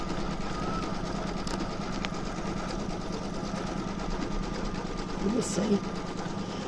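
A Brother Stellaire embroidery machine sewing a knock-down base stitch onto fabric, a steady close mechanical hum with fast rhythmic needle chatter running throughout, while a person says a few words over it.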